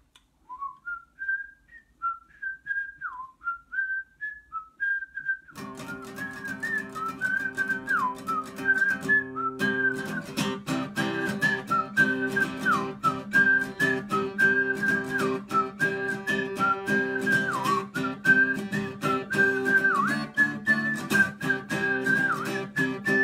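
Someone whistles a song melody live at a virtual album release concert, a clear solo line at first, then continuing over accompanying instrumental music for the rest of the passage.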